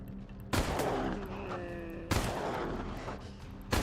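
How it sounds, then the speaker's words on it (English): Gunshots fire in the video game Wasteland 3, three sharp, loud blasts spaced about a second and a half apart, each followed by a short ringing tail. "Alright, Lucia, go ahead and take a shot."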